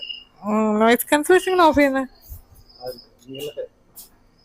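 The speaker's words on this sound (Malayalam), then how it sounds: "ക്രിക്കറ്റ് നമ്മുടെ ചീവീട്, അതിന്റെ സൗണ്ട് ഉണ്ട്." Faint, steady high-pitched cricket chirring continues in the background while a person speaks over it, at a cave-themed restaurant in Bangalore.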